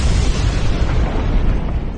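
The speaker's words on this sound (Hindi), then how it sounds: "धरती के इस हिस्से पर हजारों साल से ज्वालामुखी विस्फोट होते रहे हैं" Deep, continuous roaring rumble from a volcanic eruption in Iceland, loud and broadband with constant turbulent low-end energy and no pauses, heard alone without voices.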